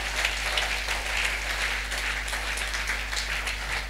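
A church congregation applauds continuously, with a dense, even wash of many hands clapping and a low electrical hum underneath.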